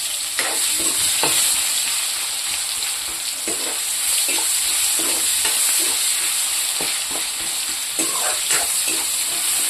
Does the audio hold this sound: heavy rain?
no